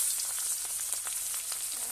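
Prawns coated in salt and turmeric fry in oil in a wok, giving a steady, fairly close crackling sizzle with faint stirring.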